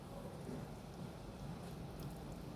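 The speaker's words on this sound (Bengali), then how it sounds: "বাইরে বৃষ্টি হচ্ছে" Steady soft rain patters outdoors, a low continuous hiss of drops with no voices.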